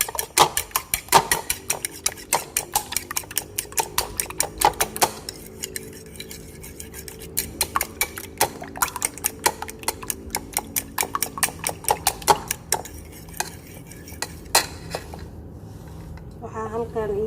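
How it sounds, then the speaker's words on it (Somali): Two eggs beaten together in a bowl, making close, quick, uneven clinks and taps that run steadily, then thin out near the end. "labadaas xabo ukun isku garaaca"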